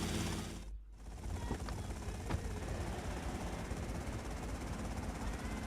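Helicopter in the video game Grand Theft Auto Vice City, a loud continuous mechanical whirring and clattering drone with a brief dip near the start, then steady to the end.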